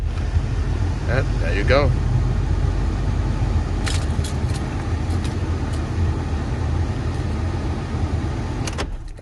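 The blower motor of a 2009 Hyundai Elantra runs with a loud, steady low whir that continues under a brief spoken remark, with a few light clicks near the middle, and then stops abruptly at the end.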